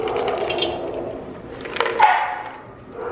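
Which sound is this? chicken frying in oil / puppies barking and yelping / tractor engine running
puppies barking and yelping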